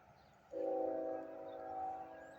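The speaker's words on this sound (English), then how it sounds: "That train goes across the causeway." A train crossing the causeway over the Great Salt Lake sounds a long, steady horn blast that begins abruptly and holds for about two seconds, moderately distant over a low rumble.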